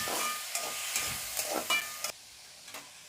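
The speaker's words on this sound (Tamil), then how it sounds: "தக்காளியையும் போட்டுறேன். போட்டு நல்லா கொஞ்சம் நேரம் செவக்க வதக்கிடுவோம்." Onions and tomatoes sauté in a pan for a lentil-ball curry, a soft, fairly quiet sizzling hiss interrupted by several short scrapes of a spoon stirring, then easing off.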